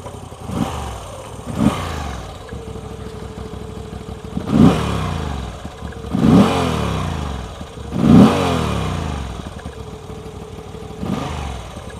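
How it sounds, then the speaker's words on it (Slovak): Moto Guzzi V85 TT, a 2019 retro adventure motorcycle, idles with a steady clattering rumble, broken by three or four sharp throttle blips that rise and fall back, heard alone and close. "No to, na čo sa určite tešíte, je aj zvuk Moto Guzzi a to vám musím hneď predviesť."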